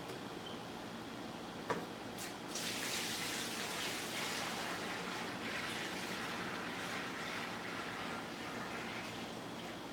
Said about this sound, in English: we have a ton of oils to pour in first